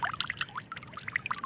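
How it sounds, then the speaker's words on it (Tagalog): Water pours and splashes over a fish being descaled, brief close trickling and splattering bursts without talk. "Ay, lagyan mo lang ng tubig."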